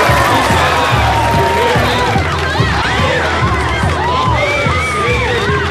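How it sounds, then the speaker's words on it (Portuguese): A large carnival crowd at a samba school parade, cheering, whooping and shouting in a loud, dense mass, with bright little cries rising over a steady roar and a pounding beat underneath. "Palmas e com gritinhos."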